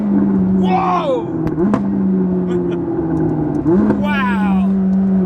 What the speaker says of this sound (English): It's now when the engine gets hot, like we haven't been driving it very much, it pops on upshifts, it shoots flames